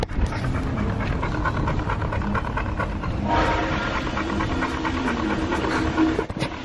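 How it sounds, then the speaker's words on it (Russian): A dog pants in quick, steady, rhythmic breaths close by, over a continuous busy background rumble and hum in an outdoor urban setting. "Здесь серьезные собачки"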